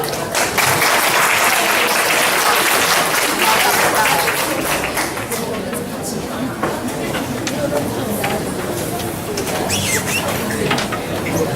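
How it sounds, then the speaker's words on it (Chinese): Audience applause welcoming a speaker to a university lecture hall, with a dense burst of clapping at the start that carries on at a lower, steady level. "那现在就让我们以热烈的掌声欢迎罗吉芳学长。"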